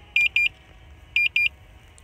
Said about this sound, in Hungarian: Kontroller csipogását kikapcsolom.